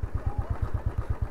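A motorcycle rides along a rough cattle track, its engine beating in a quick, regular thumping rhythm with a low rumble and some clatter, close and fairly loud.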